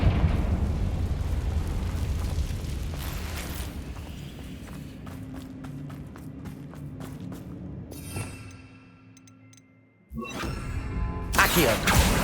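Confringo fire spells burst in Hogwarts Legacy, a dense run of loud crackling blasts and rapid sharp pops over a rumbling backdrop, then a brief lull before another bright explosive burst.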